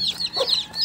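Newly hatched desi and tiger breed chicks chirping, high-pitched peeping calls overlapping in a near, continuous chorus with no talk.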